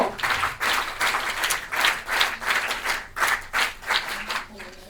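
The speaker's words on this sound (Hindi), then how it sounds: "एक बार सुरेखा मैम के लिए जोरदार तालियां।" Audience claps in bursts at a Bharat Scouts and Guides International Women's Day ceremony, with loud rhythmic waves of hand-clapping repeating across the clip.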